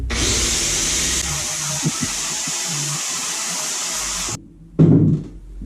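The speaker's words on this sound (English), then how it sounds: "I'm going to take it down quickly with this grinder and this sanding wheel" An angle grinder fitted with a sanding wheel shapes wood on an old chair being turned into a rocker, a steady loud whine with scraping grit that cuts off, then a brief bump and fading spin-down.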